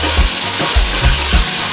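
A pot of pork stew ingredients, garlic, pimento, red and green peppers and tomato, fries loudly in oil, a dense close sizzle with soft periodic thumps from stirring.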